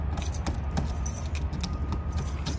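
Keys on a ring jangle against a GM car lock while being tried one after another, giving close, irregular metallic clinks and rattles over a low background hum.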